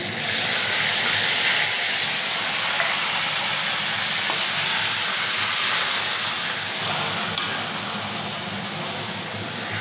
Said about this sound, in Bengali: তেল গরম হয়ে গেছে।